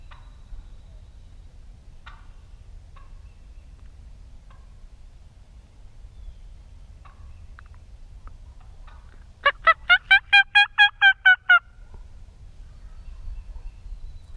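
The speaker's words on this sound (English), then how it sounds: "those gobblers sounded even further away" A distant wild turkey gobble rings out once on public land in Kansas, a rapid rattling burst of pulses against a quiet, low outdoor rumble.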